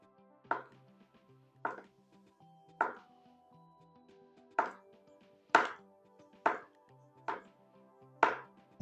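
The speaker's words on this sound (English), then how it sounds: "I'm gonna take my knife and I'm gonna slice" A knife slices through a half-peeled cucumber on a cutting board in a home kitchen, giving eight crisp, evenly spaced chops against the board, close and clear with no voices.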